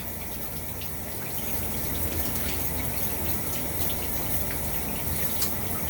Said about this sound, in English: I'm going to shower myself.